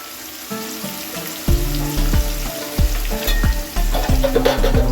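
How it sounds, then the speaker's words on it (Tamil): Onions sauté in a hot pan for chicken biryani with a loud, steady sizzle, while a metal spatula clangs and scrapes against the pan in a repeated rhythm close by. "வெங்காயம் வெங்காயம் போட்டு நல்லா வதங்கி பட்டை ஏலக்காய்"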